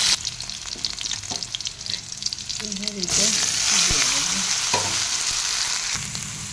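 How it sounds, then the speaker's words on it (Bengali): Slit green chillies, bay leaf and whole cumin frying in hot oil for a snake gourd dish, a loud close sizzle that swells into a bright crackling burst as the chillies go in, with stirring. "তেল দিয়ে তেজপাতা গোটা জিরে দিয়ে দিয়েছি। এবার কাঁচা লঙ্কা চেরা দিয়ে"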